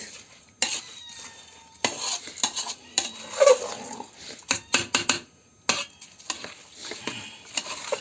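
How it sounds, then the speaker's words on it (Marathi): A spoon stirs masala rice in a metal pot over a wood-fired stove, producing close, irregular scraping and clanking strokes with short pauses between them. "भात टाकून घेतलाय तो पण आता मिक्स हलवून घेऊया मस्तपैकी"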